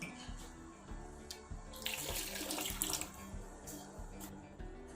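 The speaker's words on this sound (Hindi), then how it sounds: "अब हम इसमें सिरका डाल देंगे।" Vinegar poured into plum chutney cooking in a pot, a soft continuous liquid splashing and trickling for a few seconds, quiet and close, with a brief louder burst in the middle.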